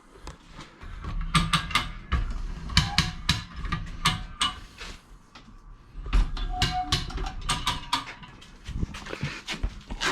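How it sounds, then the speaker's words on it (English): Ratchet cranking while fitting a Kaaz differential to a Ford Fiesta ST, irregular bursts of sharp clicking and creaking strokes with pauses between them, close and fairly loud. "So I'm going to crank on that now and see how it goes."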